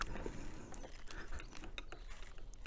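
Handlebar clamp screws on motorcycle Renthal bars being tightened with a hand tool, giving a steady run of close, small mechanical clicks and ratcheting ticks with no voices.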